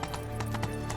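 A horse's hooves clip-clop at a gallop in The Witcher 3: Wild Hunt, with a quick rhythmic beat under faint game ambience in a short burst.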